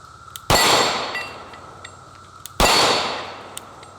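A compact concealed-carry handgun fires at a shooting range: two sharp, loud shots about two seconds apart, each followed by a ringing decay, with quiet background between them.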